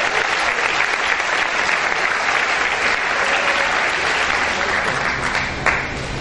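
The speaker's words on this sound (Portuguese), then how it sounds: "Aplauda o nome de Jesus por isso." A church congregation at a Quadrangular service applauds in praise of Jesus, a loud, sustained wash of many hands clapping that holds steady for several seconds.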